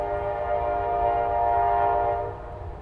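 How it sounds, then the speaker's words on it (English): A passing train sounds its horn in a long, steady, loud blast with rumbling rail noise underneath, holding for nearly three seconds before easing off. "Excuse the train."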